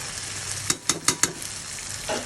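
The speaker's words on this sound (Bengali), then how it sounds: "এভাবে ভাজা ভাজা করেই মাংস রান্না করব।" Meat frying in a pan, a steady low sizzle broken by a few quick stirring scrapes in a short burst, close and fairly quiet.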